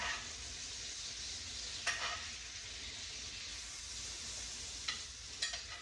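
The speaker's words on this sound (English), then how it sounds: "the garlic, the rosemary, and just baste the steak with it" Steak sizzles steadily in a pan while being basted with butter, oil, garlic and rosemary, a dense broadband crackle with a few sharper clinks of the spoon against the pan.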